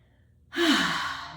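A person takes one deep breath in during a gentle mindful movement session, a soft breathy rush that starts after a quiet moment and holds steady to the end.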